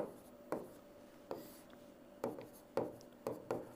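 A teacher writing during a Class 10 maths lesson on real numbers: a series of sharp, separate writing strokes, tapping and scratching at irregular intervals over a quiet room hum.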